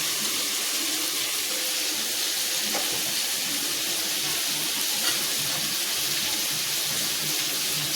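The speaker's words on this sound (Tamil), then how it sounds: "இன்னும் சிக்கன் குழம்பு வந்து நல்லா கொதிக்குது" A continuous bubbling, hissing simmer of chicken curry boiling in a pan, steady and close, with no voices.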